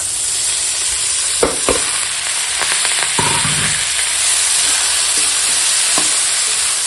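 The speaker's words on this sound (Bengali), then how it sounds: "এবার বেগুনের সঙ্গে মেথির শাকটা রান্না করে নেব" Tender fenugreek leaves frying with soft-cooked brinjal in a pan, giving a steady loud sizzle throughout with a few sharp stirring scrapes and knocks of a spoon against the pan, close up and without speech.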